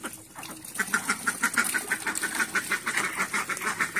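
Hungry domestic ducks in a Bangladeshi village yard quack in a steady, rapid series while gobbling a mixed feed of rice, bran and rice starch water, loud and close, no voices.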